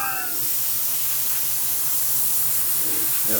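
Steady hiss of spray paint from an aerosol can painting a deer taxidermy mount, sustained and close throughout with a short faint vocal sound at the start.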